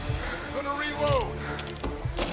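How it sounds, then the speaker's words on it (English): Gun reload in the Mafia remake, a few brief mechanical clicks and ratcheting clacks amid game ambience, with shouting voices nearby. "Gonna reload!"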